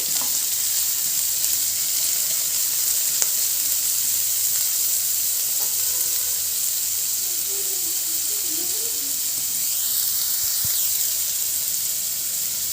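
Thinly sliced onion fries steadily in a pan with a continuous bright sizzle and hiss, close and even throughout, and occasional faint stirring clicks.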